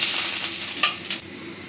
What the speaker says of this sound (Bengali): মশলাটা যাতে পুড়ে না যায় তাই একটু পানি দিয়ে নিলাম